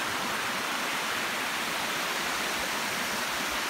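Lesmurdie Falls cascades in a steady, dense roar of falling water, an unbroken rushing hiss with no voices and no change in level throughout.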